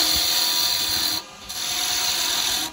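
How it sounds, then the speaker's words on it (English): A peeling scrape with a lathe tool on a spinning wooden Christmas bauble, a close, steady rasping hiss that briefly drops out for a moment before resuming. "So you're actually scraping it down."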